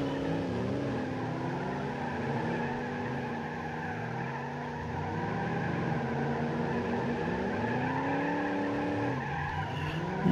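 A car in a BeamNG demolition derby final round skids and spins out, with a long, wavering tire squeal bending in pitch over a steady engine drone, loud and close throughout.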